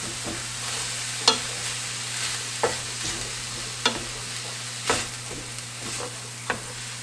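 A utensil scrapes browned bits off the bottom of a frying pan holding a chicken lettuce-wrap filling, a series of about six distinct scraping strokes spaced over a steady low sizzle and hum, close by with no talking.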